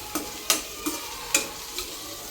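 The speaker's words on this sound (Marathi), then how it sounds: "आता कांदा आपल्याला थोडासा लाल होईपर्यंत भाजायचा आहे" Onion frying in a pan for dhaba-style paneer masala, a close, steady sizzle broken by five sharp spatula strokes scraping and stirring at irregular intervals, with no voices.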